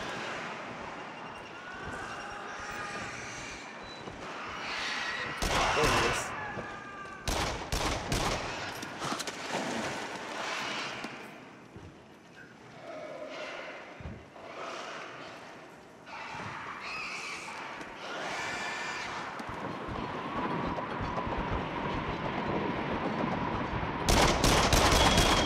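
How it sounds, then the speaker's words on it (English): Rapid gunfire in the VR horror shooter Rush of Blood, bursts of loud shots and machine-gun fusillades aimed at enemies, repeated across the stretch over a game soundtrack. "I was trying to shoot them as well, and I keep missing."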